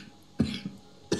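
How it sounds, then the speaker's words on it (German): A person coughs during a League of Legends gaming session, two short separate coughs plus a faint throat sound, fairly quiet and close to the microphone, with no talk over them. "jetzt hör auf zu husten, das nervt."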